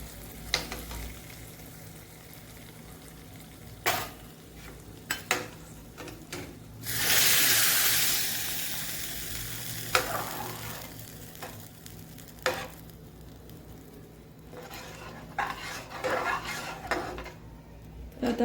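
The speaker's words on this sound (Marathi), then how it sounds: "आणि त्याच्यामध्ये आपण जो तडका दिलेला आहे तो टाकते" Hot tadka tempering is poured into dal in a kadhai and bursts into a loud hiss of sizzling, followed by scattered metallic clinks and scraping of a spoon stirring the pan, fairly quiet overall.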